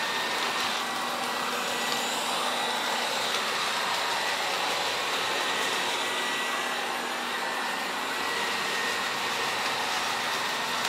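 A Samsung Jet Bot+ robot vacuum on normal suction gives off a continuous, even whirring hiss with a faint tonal hum, steady and close for the whole stretch, with no voices.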